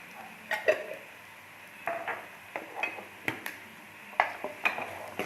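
A spoon clinks and scrapes against a pan while dry coriander and cumin are stirred into keema, with a series of irregular metallic taps over a quiet background.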